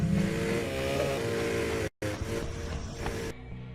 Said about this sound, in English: he pops out from behind a wall and begins chasing you, revving up his chainsaw the entire time